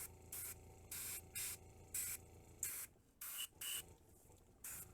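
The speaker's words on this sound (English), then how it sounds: "We just kind of spray it around." Short bursts of airbrush-style spray paint apply rust weathering to a scale model, about nine quick hissing puffs in an irregular rhythm, close and fairly soft with no voices.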